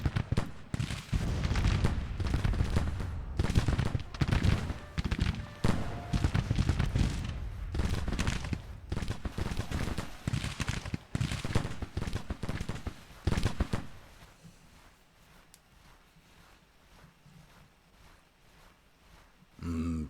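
Rifle fire in a Civil War battle video game, with dense rolling volleys of many overlapping shots for about thirteen seconds that then break off into a quieter stretch with a few scattered distant reports.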